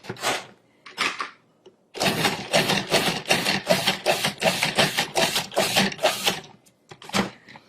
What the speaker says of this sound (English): we're going to pulse that until it's finely chopped